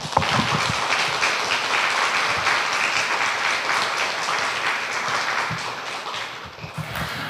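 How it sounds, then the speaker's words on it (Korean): A Korean church congregation claps to welcome the pastor forward during Sunday worship, producing a full, continuous burst of applause that fills the room and holds steady before tapering slightly near the end. "우리 환영의 의미로 또 이렇게 박수로 맞아 주시면 감사하겠습니다."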